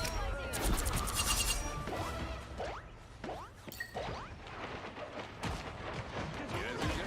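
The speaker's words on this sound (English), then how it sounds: "Hey, someone's shooting at us" Gunfire from the video game Rivals crackles in repeated bursts and volleys, with whooshing projectiles and crashes amid a busy battle soundscape; voices talk over parts of it.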